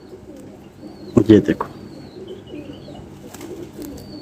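A female pigeon coos and stirs while held in the hand during wing inspection, making a short, close cluster of low throaty coos partway through, with someone talking over it.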